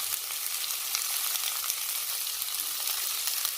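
Onions frying in a hot pan, giving off a steady, dense sizzle with faint crackles that carries on evenly throughout, close and alone with no talking.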